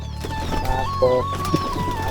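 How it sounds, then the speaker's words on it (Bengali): Local domestic pigeons coo in a village pigeon house, soft low throaty calls close by amid faint background noise, with no talk. "এই সব আমাদের সব দেশি কবুতর"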